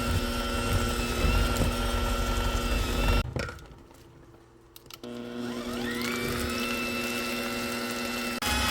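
An electric mixer creams cake batter with eggs for a walnut cake, a steady close whirring drone that cuts out for about two seconds midway, then resumes at an even pitch.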